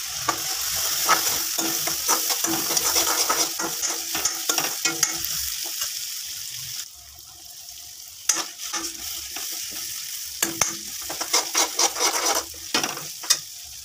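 Ground spice paste for matar paneer sizzles in hot oil in a pan while being stirred, a bright crackling fry punctuated by repeated scraping strokes, briefly quieter midway before the stirring picks up again.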